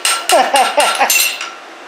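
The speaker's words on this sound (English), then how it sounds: "I'm taking the small cross-peen hammer there, the small sharp end, I'm cutting in the veins of the leaf" A small cross-peen hammer strikes a metal leaf on an anvil in five quick, sharp ringing blows, close and loud, the last one trailing off into a fading metallic ring.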